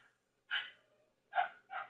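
A dog barks indoors in three sharp, fairly close barks: a single bark followed by a pause, then two more in quick succession.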